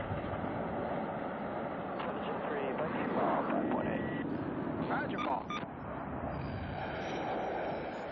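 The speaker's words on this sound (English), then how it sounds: "at contact with the flight deck, they gun the engine to full power" Roaring jet engine of a carrier plane throttled to full power as it touches down on the flight deck, a loud continuous broadband rumble with some clanking that holds steady for several seconds.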